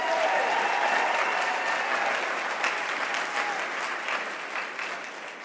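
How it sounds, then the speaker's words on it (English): A large audience applauding at the CPAC conservative political conference, a full sustained round of clapping that gradually thins toward the end. "you should give each of yourself a big round of applause"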